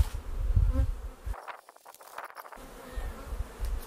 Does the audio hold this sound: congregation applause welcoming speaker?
no